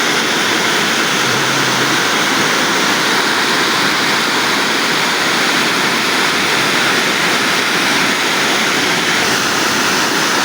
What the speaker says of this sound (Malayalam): നീരുറവ കുത്തി ഒഴുകുന്ന സ്ഥലം.